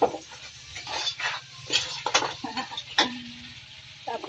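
Mixed seafood stirred in a pan of buttered garlic, with a utensil scraping and clinking against the pan over a steady sizzle. The stirs come in irregular bursts, close and fairly loud.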